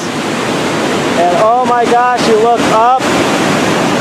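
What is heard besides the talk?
rushing river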